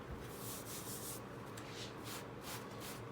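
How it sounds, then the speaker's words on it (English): Sandpaper rubs steadily across a guide coat over black enamel paint on a speaker cabinet, a loud, close, continuous rasping hiss with slight surges of back-and-forth strokes, no talking. "we'd sand across the high spot of it"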